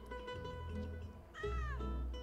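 A cat in the video game Genshin Impact meows in a long, rising-then-falling call as it is petted, loud and close, preceded by game background sounds and music.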